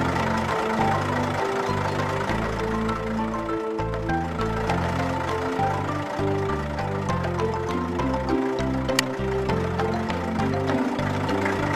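A cartoon tractor's engine runs steadily after a new blue exhaust pipe is fitted, giving a continuous low rumble with a knocking, chugging pulse under light music for about twelve seconds.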